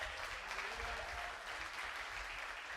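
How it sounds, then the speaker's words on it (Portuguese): A church congregation applauds in steady, dense clapping that fills the whole stretch at an even level, with a faint voice underneath. "Dá um aplauso para o Senhor, igreja."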